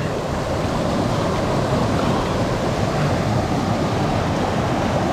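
Waterfall in a cold river, heard as a loud, unbroken broadband roar of falling water, steady and close throughout, with no voices.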